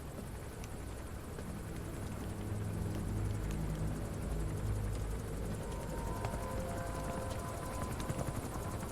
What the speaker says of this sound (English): That is a helicopter, yep.